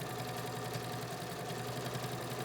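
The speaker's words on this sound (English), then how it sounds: "So I'm sewing, sewing," Sewing machine stitching binding onto a quilt, a steady, continuous mechanical whir with rapid even needle rhythm, close up and running alone without pause.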